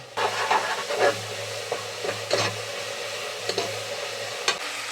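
Onions sizzling steadily as they roast in a pan for egg biryani, a continuous close frying hiss broken by a few brief stirring scrapes, no voices.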